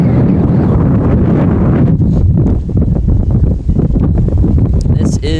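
Wind buffets an open microphone at an outdoor Georgetown vs Towson college softball game, a loud continuous low rumble with gusty swells that runs throughout and covers everything beneath it, while a commentator speaks over it.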